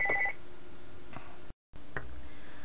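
Short electronic phone tones sound at the start, followed by a few faint ticks and a brief dropout to silence, all at low level with no voices.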